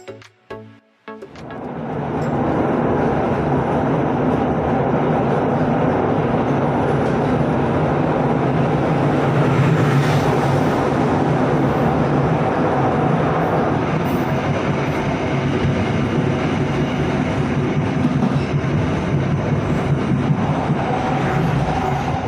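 A Bangunkarta passenger train departing Jombang station rolls along steadily after a brief start, a loud continuous rumble with rattling and clatter of wheels on rails, close by and sustained throughout.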